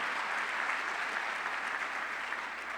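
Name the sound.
audience applause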